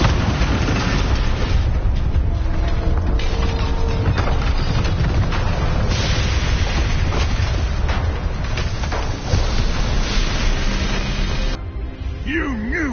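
The Bombarda blasting spell in Hogwarts Legacy explodes wood with a heavy, sustained crashing boom and splintering debris. The sound stays loud and dense throughout, with a brief character vocalization near the end.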